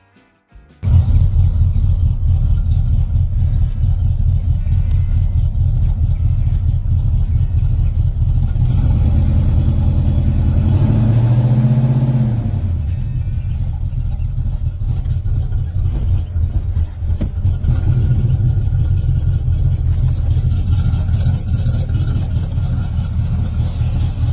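A 1965 Mercury Comet hot rod idles with a deep, steady low rumble, loud and close, swelling briefly midway as the engine is revved before settling back to a constant drone.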